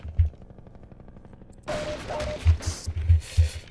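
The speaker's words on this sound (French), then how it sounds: "Attends, ça tire." Gunfire in Half-Life 2: Episode Two: low thumping shots at first, then a sudden burst of loud, dense weapon fire with several heavy impacts and crackling bright noise, close and continuous, with no voices.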